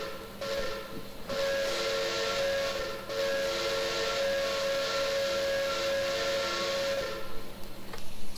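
The steam whistle of a PRR E6 4-4-2 Atlantic locomotive in Train Simulator Classic sounds in a few long, loud, steady blasts with short breaks, its tone rising straight in with no gradual start.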